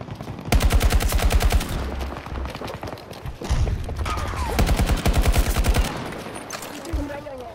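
Heavy automatic gunfire in a Battlefield 2042 match, loud rattling bursts near the listener separated by short pauses, with game effects and some voice chatter in between.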